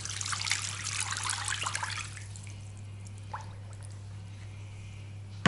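Marinade poured over salted fish, heard as a close liquid trickle and splash for about two seconds that then stops, leaving a low steady hum.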